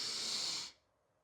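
A single deep, airy inhale through the nose during a guided breathing exercise, close and steady for about half a second before it cuts off into near silence.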